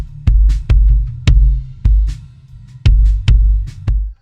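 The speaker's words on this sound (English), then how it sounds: "We can add this in to give it some really low end thump." Kick drum reinforced by a gated signal generator, giving eight deep, booming low-end thumps in a steady beat, each cut off sharply.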